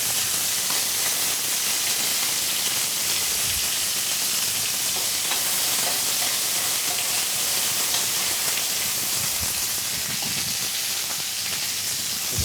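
A venison fillet sears in a hot pan with a steady, loud, broadband sizzle that holds without pause, the spitting fat hissing continuously as the meat is turned.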